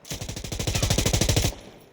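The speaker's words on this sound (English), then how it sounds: "So let's take a look at the full auto pattern here. Just firing full auto." An SIG M250 light machine gun in Insurgency Sandstorm fires one sustained full-auto burst of about twenty rapid, evenly spaced shots that stop abruptly, followed by a short fading echo.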